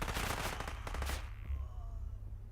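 Game gunfire in the shooter Call of Duty Cold War: a rapid crackling burst of automatic shots over a low rumble, fading into a brief echoing tail and a couple of distant thuds, moderately quiet.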